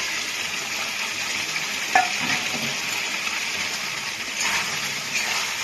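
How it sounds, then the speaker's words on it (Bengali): Potatoes sautéed and stirred through spice masala for a vegetarian aloo paneer fill the pan with a loud, continuous sizzle, with occasional scrapes and knocks of the spoon. "আলুটা দিয়ে এবার আমি ভালো করে কষাবো"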